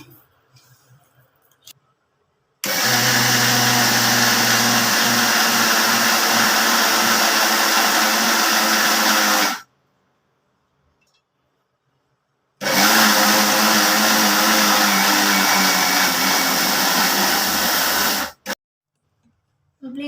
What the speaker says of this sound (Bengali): এবার আমি এগুলো ব্লেন্ডারে ব্লেন্ড করে নেব